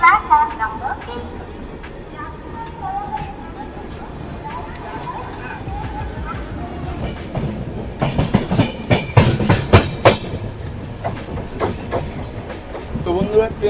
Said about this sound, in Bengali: আমাদের ট্রেন এখন ডিপার্চার নিল পুরী রেলওয়ে স্টেশন থেকে